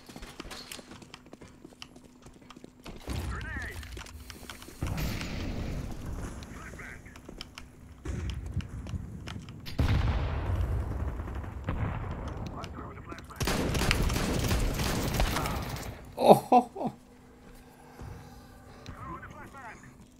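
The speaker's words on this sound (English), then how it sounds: "Can't beat a good old shotty." Shotgun blasts in Counter-Strike 2 come as several loud, sharp bursts a few seconds apart, each followed by a brief rumble, over low background game noise.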